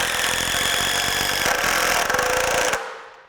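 Craftsman V20 brushless 1/4-inch variable-speed impact driver running continuously with a dense buzzing, rattling hammer action for nearly three seconds, then cutting off abruptly into quiet.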